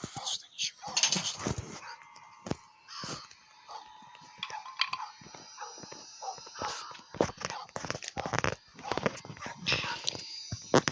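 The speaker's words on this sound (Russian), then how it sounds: "А чё тут пёсель гавкает?" A dog barks and yips repeatedly in a video game set in a blizzard, the sharp calls scattered among game sounds while people talk over it.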